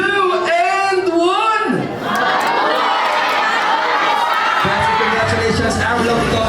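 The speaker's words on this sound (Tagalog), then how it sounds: "Isang malakas na sigawan ng mabuhay ang bagong kasal in 3, 2, and 1!" Wedding guests cheer and shout "mabuhay" for a newly married couple. A host's voice leads in briefly, then a loud, close burst of crowd shouting and whooping follows and fades into lingering voices.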